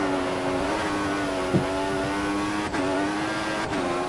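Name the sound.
racing car engine in a video game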